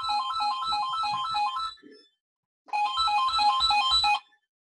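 A phone ringtone plays a repeating melodic pattern loudly for about two seconds, falls silent briefly, then rings again just as loud, with no talking over it.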